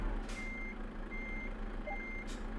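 Reversing beeps from a truck in Euro Truck Simulator 2, three evenly spaced steady tones over a low idling engine rumble, with short air hisses at the start and end.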